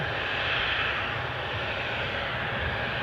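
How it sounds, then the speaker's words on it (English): An Air France Hop Embraer 190 jet departs Newcastle Airport for Paris Charles de Gaulle, its engines a steady, broad rushing roar heard from a distance, even and unbroken throughout, with no voices. "Just in time to see this Embraer 190 standard depart for Paris Charles de Gaulle, courtesy of Air France Hop."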